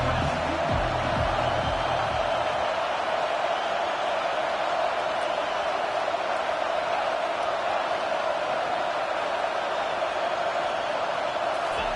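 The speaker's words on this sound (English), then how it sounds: "Big third down as the crowd gets behind this defense." Football stadium crowd roaring for the home defense on a big third down, a dense, sustained wall of cheering noise with no pauses, steady and loud throughout the whole stretch.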